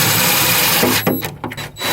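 A power drill whirs steadily inside a van during a shower drain and tank install, running loud for about a second, then stopping and starting in short bursts before revving up again.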